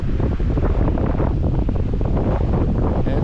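Heavy wind buffeting the microphone while fishing outdoors, a loud, constant roaring rumble close up with no pauses.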